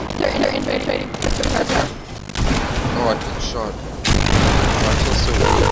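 Gunfire in Fortnite, sharp booming shots and impacts in quick bursts, loud and close, mixed with voices talking and a louder burst near the end.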